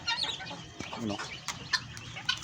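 Native roosters cluck and call near and clear amid a busy yard, with brief sharp squawks scattered through a murmur of other birds.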